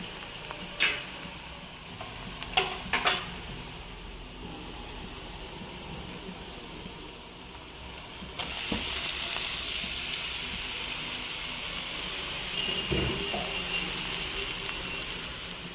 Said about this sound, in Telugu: ఉల్లిపాయ బాగా ఫ్రై అయిపోయింది కాబట్టి బీరకాయ ముక్కలు వేసేస్తా